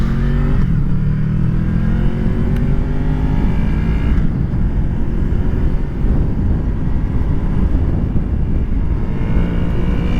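A Honda VFR800 motorcycle engine revving loud and close through its VTEC range, rising and falling in pitch with sustained rasping power for the whole stretch and no talk.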